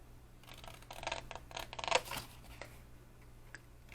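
Scissors snip through paper while a treat box is being cut out, a few soft, close crisp cuts clustered in the middle, faint and quiet with no talking.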